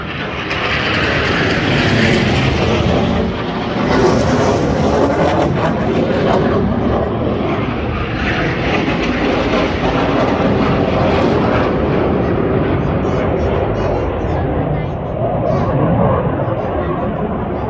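A race airplane roars past at a Swiss Air Force air show in Grindelwald, a loud, sustained engine rush that swells and fades while people talk over it.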